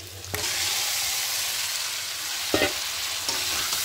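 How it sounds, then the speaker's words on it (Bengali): Marinated chicken with spices frying in oil for coriander chicken, a steady loud sizzle with a few scraping stirs of a spatula against the pan. "এই সব কিছু একসঙ্গে খুব ভালো করে একটু মিনিট 2 মিনিট কষিয়ে নেব"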